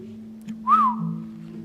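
A man gives a single rising-and-falling whistle of surprise at some news, short and clear, heard alone over a steady low hum.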